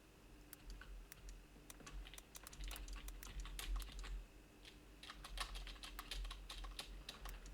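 Fingers tap the Z and X keys of a ZX computer keyboard while playing Cosmic Invaders, a quiet, close run of irregular plastic clicks in bursts over faint low hum, with no talking.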